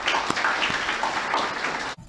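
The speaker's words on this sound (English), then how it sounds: "So give a big round of applause to these excellent speakers again." An audience applauds speakers at an education talk, a dense, steady wash of clapping from many hands that carries on evenly before cutting off abruptly.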